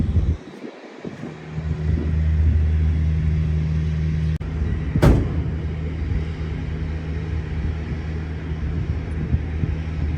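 A 1963 Chevrolet C10 short-bed pickup truck starts up and settles into a steady, deep idle, a low rumble that runs nearly the whole time, with a sharp knock partway through; no voices.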